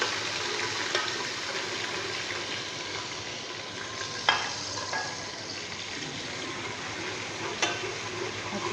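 Onions fry with ginger garlic paste in a pot for beef nihari, a steady close sizzle with scattered pops and a few louder clinks of stirring, no talking.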